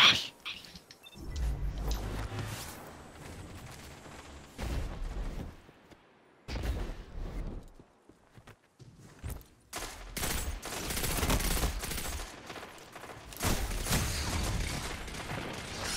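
Gunfire from the video game Destiny 2, with bursts of rapid shots and mechanical clatter broken by short quiet gaps, building to a dense, loud volley near the end.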